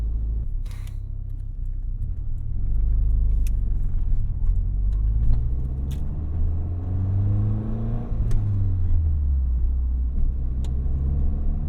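A 1990 Nissan Pulsar GTI-R hatchback is driven, its engine a steady low rumble with rising and falling pitch as it accelerates and shifts, heard from inside the car with a few faint clicks and rattles.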